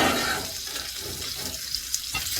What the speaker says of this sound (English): I'm just going to make that nice sear on the outside